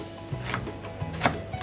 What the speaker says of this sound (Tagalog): Hinihiwa ko maliliit yung sibuyas para hindi makita ng mga anak.